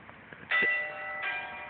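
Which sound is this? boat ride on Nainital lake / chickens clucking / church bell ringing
church bell ringing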